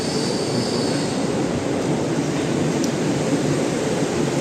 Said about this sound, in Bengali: এখন জয় হিন্দ মেট্রো স্টেশনে সবে ঢুকলো, এবার দাঁড়াবে।